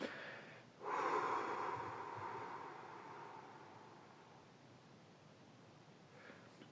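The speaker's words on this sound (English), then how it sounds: "What we need to do is to breathe." A slow, deep, conscious breath is drawn in through the nose as a long, soft rush of air close to the microphone, then fades gradually, with no talking.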